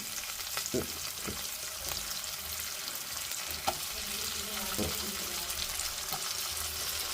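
Potato pieces frying in a pan for potato fried rice: a continuous close sizzle with scattered soft scrapes and taps as they are stirred, no voices.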